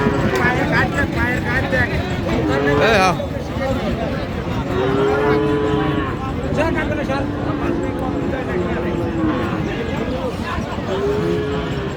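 Cattle, cross-breed and Friesian bulls and calves, low and moo repeatedly amid a noisy crowd at Raniganj livestock market, Dinajpur, with people talking throughout and a busy market murmur in the background.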